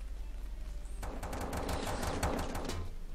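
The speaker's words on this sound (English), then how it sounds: "Oh, I can hear the gun." Rapid bursts of gunfire in the top-down shooter Teleglitch, dense and fairly loud after a quieter first second, with no voices over it.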